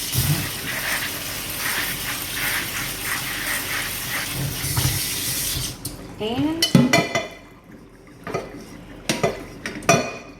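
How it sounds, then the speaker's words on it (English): Water gushes and splashes as noodles are drained, with metal pot and utensil clatter following; a voice speaks briefly. "we're just gonna strain our noodles"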